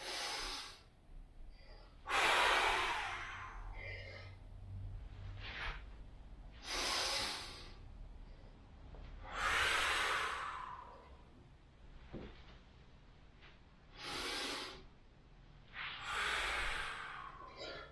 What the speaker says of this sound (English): Kokyu-ryoku, which means breathing exercise.